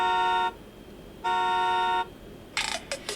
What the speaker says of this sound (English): an app that plays car horn sounds